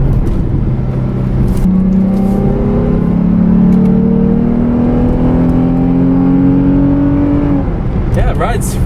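A 2008 Lexus IS 350 on BC coilovers with Swift springs, heard from inside while driving. The engine and exhaust drone loudly and continuously, and the pitch climbs steadily as the throttle opens, over constant road rumble.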